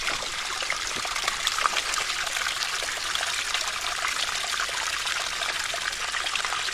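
Small springs pour water out of a hillside on Peter's Mountain along the Victoria Trail, giving a steady, close, hissing trickle that carries on without a break and with no voices.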